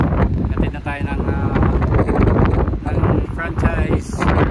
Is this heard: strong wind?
yes